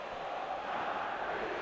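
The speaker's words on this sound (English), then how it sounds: "Crowd calling for him to..." Stadium crowd noise in the football video game eFootball PES 2021, a steady broad roar of many voices sustained at even loudness throughout, with no speech.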